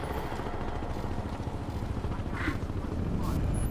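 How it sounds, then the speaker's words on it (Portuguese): An enemy helicopter in the video game Crysis 2 gives off a continuous droning rotor rumble, with brief game effects over it. "Com certeza é um helicóptero inimigo."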